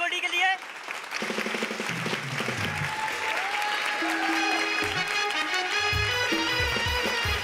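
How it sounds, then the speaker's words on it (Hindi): Loud audience applause fills a Hindi-language quiz show studio, a dense steady wash of clapping with background music tones running underneath throughout. "तो एक बार जोरदार तालियां हो जाए"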